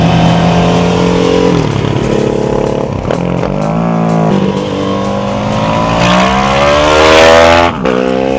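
Loud Ducati 999 motorcycle engine with a dry clutch, revving steadily with rising and falling pitch across several throttle blips, close and continuous throughout.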